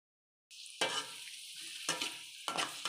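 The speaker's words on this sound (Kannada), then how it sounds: "ಕ್ಯಾರೆಟ್ ಹಾಕ್ಕೊಂಡು ಚೆನ್ನಾಗಿ ಮಿಕ್ಸ್ ಮಾಡ್ಕೊಳ್ಬೇಕು" Carrots stir-fried with onions for fried rice in a hot pan, a steady loud sizzle that starts abruptly, broken by scraping bursts of spatula strokes in a loose rhythm.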